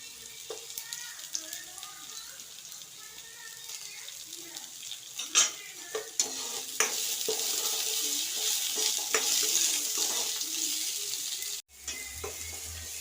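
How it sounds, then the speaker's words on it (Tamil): Onions, green chilies and curry leaves sautéing in a pan, a soft steady sizzle with scraping stirs and occasional clinks, growing louder midway, then a brief cut and low rumble at the end. "வெங்காயம் பொன்னிறம் ஆகிற அளவுக்கு நம்ம நல்லா வணக்கி எடுப்போம்"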